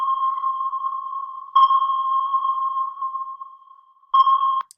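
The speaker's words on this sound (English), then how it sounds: "The sonar ping, if you've ever watched movies with submarines, it sounds just like this." Steady electronic sonar pings, a sustained tone that swells and fades, with sharper renewed pulses partway through and near the end, heard alone with no talking.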